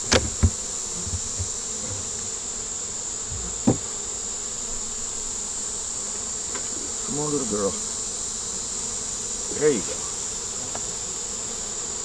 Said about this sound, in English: Little bees are funny when they figure out they can fly.